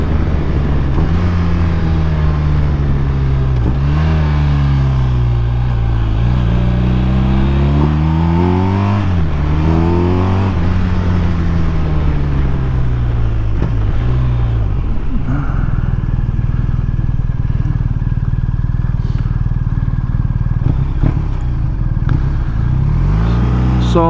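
A BMW R1250RT motorcycle engine under way on the road, a loud continuous drone that rises and falls as the rider works through the gears, with wind rush throughout.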